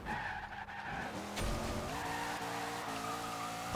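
A drift-build truck in Forza Horizon 2 slides with sustained tire squeal and a revving engine, steady and fairly loud, with no talking.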